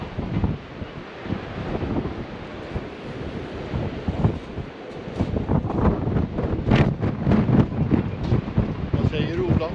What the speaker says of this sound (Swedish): Det blåser. Det blåser.